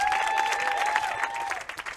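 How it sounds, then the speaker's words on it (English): A crowd at a high school softball senior night applauds the senior players and their parents, dense steady clapping with some cheering. "let's give these young ladies and their parents one final round of applause"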